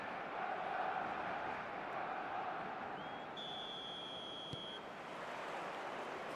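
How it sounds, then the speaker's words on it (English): Stadium crowd in the eFootball video game, a faint continuous roar of massed voices with a brief whistle-like tone partway through. "This crowd doesn't do ordinary, and we should be in for something very special."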